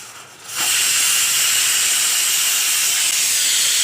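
Washed cabbage dropped into a hot pan with turmeric and salt, a quiet moment giving way abruptly to a loud, steady steaming hiss.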